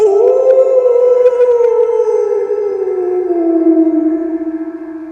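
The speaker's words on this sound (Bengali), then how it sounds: "হঠাৎ একটি শেয়াল ডেকে উঠল।" A single long, loud, wavering howl is heard close up, falling slowly in pitch and trailing off at the end, used as a jackal-call sound effect in a Bengali horror story. Nothing else is audible.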